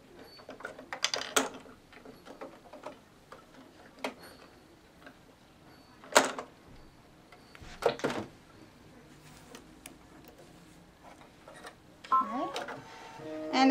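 An embroidery machine stitches the outline of an acorn cutout in beige thread on a scrubby, giving off quiet mechanical ticking and clicking with scattered sharper taps and a busier run of rapid stitching near the end.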